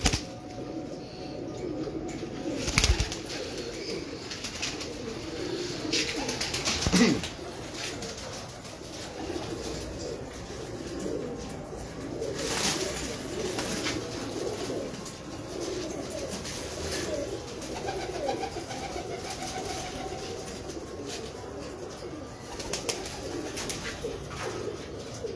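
Pakistani pigeons cooing steadily for a long stretch, a low murmuring chorus of soft coos close by, with a few sharper bumps and wing flaps scattered through it.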